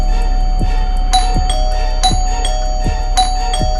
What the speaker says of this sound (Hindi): मेन डोर की घंटी जोर से बजने लगी।